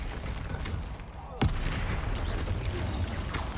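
Spell blasts cast in the game Hogwarts Legacy: a dense, rumbling barrage of booming impacts with one sharp crack, loud and continuous, with battle effects layered over it.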